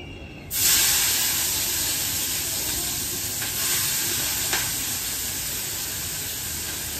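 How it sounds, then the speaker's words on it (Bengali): Vegetables hit hot oil in a kadai for fried rice and burst into a loud, steady sizzle that continues unbroken for several seconds, with faint stirring taps and no speech. "কড়াতে তেল বসিয়ে দিয়েছি, এগুলো একে একে ভেজে নিই"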